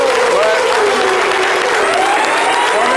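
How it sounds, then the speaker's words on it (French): A standing audience applauds in a dense, steady wash of clapping that fills the whole stretch, with a voice sounding through the crowd and a faint tonal sweep drifting underneath. "Je vais vous demander humblement de vous tenir debout pour 5 secondes d'applaudissements pour elle"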